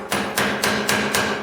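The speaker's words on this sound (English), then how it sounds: "I'm going to come back in with a little ball-peen hammer" A small ball-peen hammer rivets a copper welding rod in place, giving five sharp, close metallic taps struck at an even, steady rhythm.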